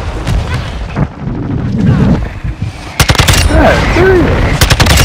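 Mortar strikes and explosions thud and boom in a military shooter game, mixed with rapid gunfire bursts, loud and dense over the whole stretch, with a man exclaiming over the noise.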